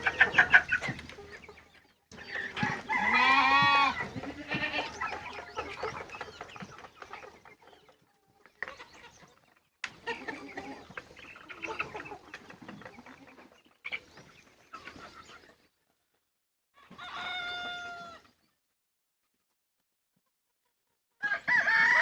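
A group of desi hens and roosters on a village poultry farm, with a rooster crowing up close and birds clucking in scattered bursts separated by quiet gaps.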